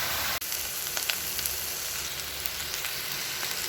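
Garlic, onion and tomato paste sautéing in a pan for Filipino-style spaghetti, a steady close hiss and crackle of sizzling oil with small stirring scrapes, no talk over it.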